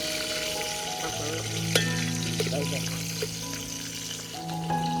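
Onion frying in a pan over an outdoor fire in a forest, a steady sizzle with occasional stirring and scraping, while people talk nearby and a low hum runs beneath.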